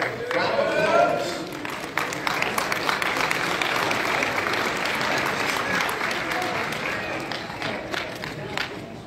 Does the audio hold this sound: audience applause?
yes